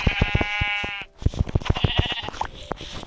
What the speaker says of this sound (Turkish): Oo, bir koyun.